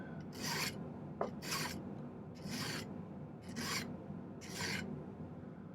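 A file rasps across excess solder on a silver malachite ring in five evenly spaced strokes, each a bright scraping burst close at hand with short pauses between.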